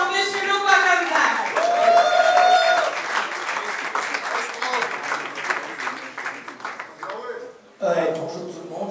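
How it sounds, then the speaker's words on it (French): Audience applause at a jazz festival press conference, a sustained burst of clapping from the crowd that dies down around the midpoint while someone speaks over it. "Allez, applaudissez bien fort"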